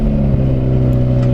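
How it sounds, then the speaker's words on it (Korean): A BMW 840i Gran Coupe engine runs after starting, a steady, fairly loud low hum with a small bump near the start, heard close and alone for a moment. "그리고 시동을 걸어보면"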